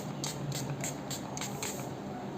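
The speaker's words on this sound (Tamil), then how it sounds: "லைட்டாக ரோஸ் வாட்டர் ஸ்ப்ரே பண்ணிக்கிறேன்" Rose water is misted onto a face from a spray bottle in a series of about five quick, soft spritzes, evenly spaced and close by in a quiet room.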